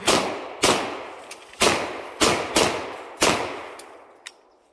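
Sharp gunshots from a video game, a sequence of about six loud cracks spaced roughly half a second apart, each with a quick decaying tail, followed by a faint single pop near the end.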